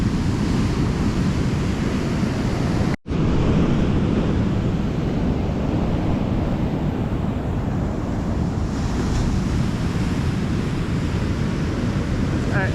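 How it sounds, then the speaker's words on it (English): Sea waves surge and wash onto the shore after a storm, a loud, continuous roar mixed with gusty wind buffeting the microphone, with a momentary cut early on. "There's a bloody wave."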